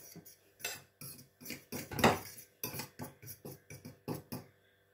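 Egg and black pepper are whisked in a bowl with a utensil, giving a rapid run of close clinking and tapping strokes in short bursts, with no talk.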